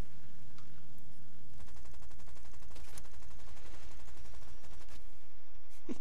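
Sustained rattling bursts of rapid automatic gunfire and rocket blasts from a combat flight video game with heavy fighter aircraft, dense and continuous over a low engine drone, with occasional sharper impacts and no speech.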